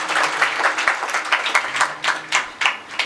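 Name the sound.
kirtan audience clapping loudly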